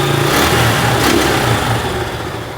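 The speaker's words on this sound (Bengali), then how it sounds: "বাইকটা কিন্তু স্টার্ট করা হয়েছে" A Suzuki Gixxer in Monotone Black runs steadily, its single-cylinder engine idling smooth and close with a slight rise in revs, loud and unbroken with no voices.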